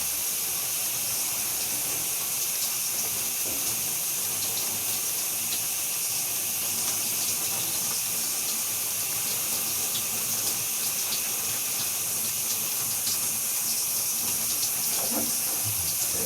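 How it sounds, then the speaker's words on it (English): A 1.8 gallon per minute shower head running in a shower, a dense, steady hiss of spraying water that holds constant and close throughout with no pauses. "I'm in the shower."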